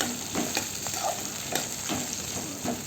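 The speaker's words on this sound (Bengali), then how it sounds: "পেঁয়াজগুলো ভালো করে ঘিতে ভেজে নিতে হবে এবং ভাজার সময় সামান্য নুন দিতে হবে" Onions sizzle and crackle in hot ghee, with steady frying hiss and occasional soft stirring scrapes.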